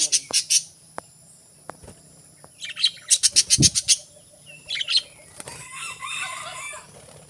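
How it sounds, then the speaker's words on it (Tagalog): Birds chirping in an eco park during a morning walk, with quick bursts of sharp, fairly close tweets coming in clusters, separated by quieter gaps, along with a low rooster-like call and faint background noise. "Bird."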